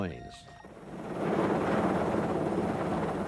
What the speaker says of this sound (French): Au lever du jour, les avions décollent.